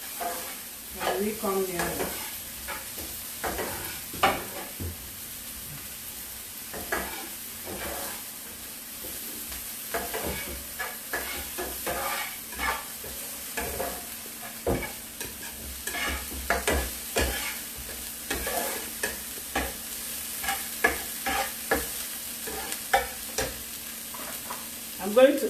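Food is stirred in a frying pan with spring onion, a steady soft sizzle broken by frequent scraping strokes of a spoon against the pan, close and fairly quiet, with a voice talking now and then over it.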